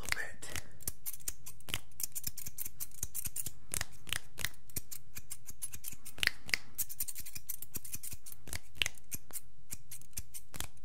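Scissors snip through hair during an ASMR trim, with quick crisp cuts in irregular bursts, close and intimate, over a soft hush and occasional quiet speech.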